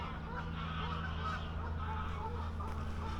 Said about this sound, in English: All the geese flying over.